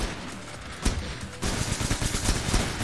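Rapid gunfire from officers in the heist game Entry Point, a steady stream of close shots over a noisy background, getting denser and louder partway through.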